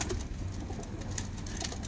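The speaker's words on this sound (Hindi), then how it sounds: "लो जी दोस्तों, ये कबूतर भी आप देखें" Pigeons coo on a rooftop in a steady low murmur, with soft bird calls over a constant background hum; no talking.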